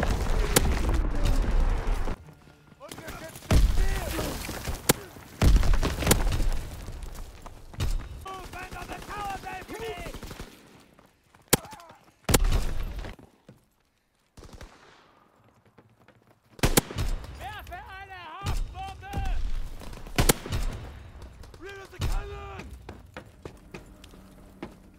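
Artillery strike firing in the World War II shooter game Call of Duty WW2: a burst of heavy booms and rapid gunfire rolls through the first half, then dies to near silence before scattered blasts return alongside a voice.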